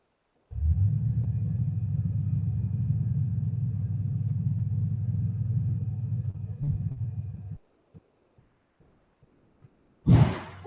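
A truck engine rumbles low and steady for several seconds on a cold day, then cuts out, followed by a few faint clicks and a sharp thump like a door shutting.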